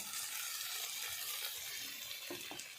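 Spices and ground mustard paste frying in hot oil in a pan, a steady broadband sizzle with soft crackles and a few small pops, close and continuous without speech.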